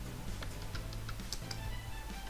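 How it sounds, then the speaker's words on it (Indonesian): Quick, close typing on a computer keyboard as an IP address is entered, a steady run of light key clicks over a low background hum, with no talking. "Caranya ketikkan IP address"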